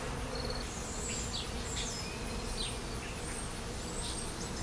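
Honeybees buzz steadily around an open frame from a hive with a laying queen and fresh larvae, a dense close swarm hum with a few individual bees whining past.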